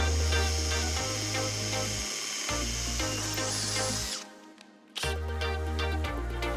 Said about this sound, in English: We're going to get a drill with a 1/4 inch drill bit and drill these holes out.